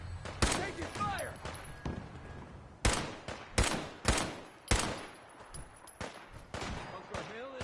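Gunfire in Fallout 4 bursts out repeatedly, with loud sharp shots and rapid volleys spread through the clip and voices calling out between them.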